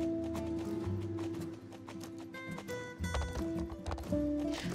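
Horse hooves clip-clopping on wood in the video game Star Stable Online, during an Iberian horse working equitation race, with rhythmic, crisp hoofbeats over music.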